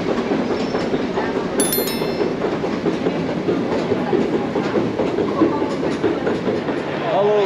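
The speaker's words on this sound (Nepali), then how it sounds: "अहिले भिक्टोरिया ट्रेन स्टेसन आइपुग्यो" Steady rolling rumble and rhythmic wheel clatter of a train at London Victoria station, continuous and fairly close throughout, with a brief high squeal early on and no talking.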